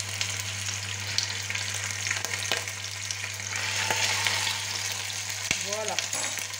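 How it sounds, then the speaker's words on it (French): Pieces of turkey osso buco sizzle and crackle steadily as they fry in hot oil, a continuous close hiss with a few louder spits and a faint voice near the end. "Ensuite, on va mettre notre viande puisque notre huile est chaude."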